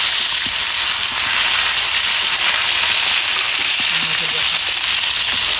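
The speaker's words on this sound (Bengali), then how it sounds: "মাছটা ভাজি করতেছি। হালকা করে ভাজি করবো, বেশি কড়া করবো না।" Fish fries lightly in a pan, a loud, constant sizzling hiss with faint crackles running the whole time, close up and with no talking.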